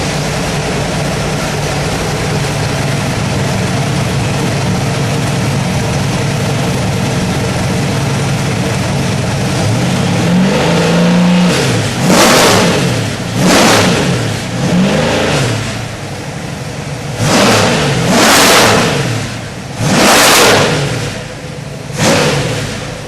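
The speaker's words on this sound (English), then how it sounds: "So we'll start it up. Okay, here's our 347 stroker Ford." Ford 347 stroker V8 idling loud and rough, then revved hard in a series of rising and falling bursts, close by with no voices.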